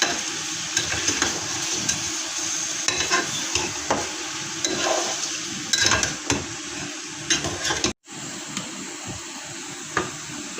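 Meat curry stirred in a pot after salt goes in, with close scraping and clinking of a spoon against the metal, wet sizzling underneath and a brief sudden silence before stirring resumes.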